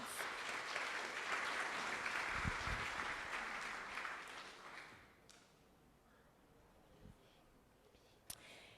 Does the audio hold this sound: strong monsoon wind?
no